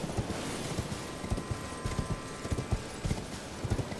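Horse hoofbeats from riding in Elden Ring sound as a steady clip-clop gait, with paired hoof strikes repeating in an even rhythm over a low ambient hum.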